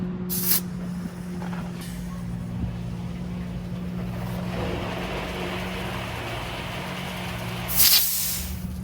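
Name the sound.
air compressor blowing out a garden hose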